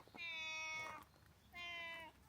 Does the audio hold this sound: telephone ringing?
no